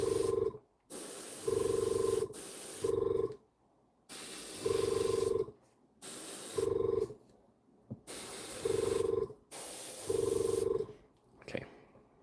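Short bursts of paint spray aimed past the tip of a horn, with a finger held beneath to block overspray, hissing in about seven repeated blasts separated by brief pauses, close and fairly loud.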